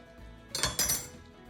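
A knife slices a fresh tomato into small squares for a pie garnish, giving a few close, crisp taps and clinks against a board or dish in a quick cluster, with no voices.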